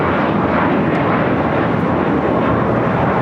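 A Boeing 787 Dreamliner jet at LAX makes a loud, steady roar of engine noise that fills the whole clip without a break.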